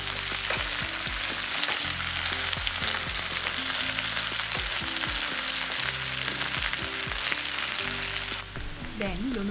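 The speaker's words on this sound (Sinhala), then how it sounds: "දැන් කුඩාවට කපාගත්ත අමුරිස් කරල් දෙකකුත් දාගෙන හොඳින් මිශ්‍ර කරගන්නවා" Potatoes fry in hot oil with chopped green chillies stirred in, giving a steady, close sizzle with scraping spoon strokes throughout.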